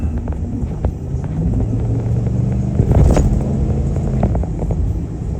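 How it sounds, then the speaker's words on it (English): A Ford Bronco on a test drive after power steering work, its engine a steady loud low rumble from inside the cab with a brief swell of road noise midway. "Time to go for a test drive."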